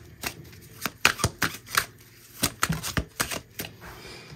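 Tarot cards are shuffled by hand, a series of close, crisp riffling snaps and slaps in an irregular rhythm with short gaps between them.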